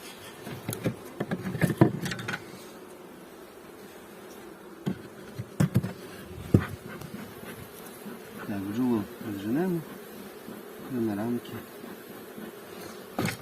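Honeybees buzz around an opened hive during a spring inspection at an apiary, a faint hum under scattered knocks and handling sounds, with people talking nearby.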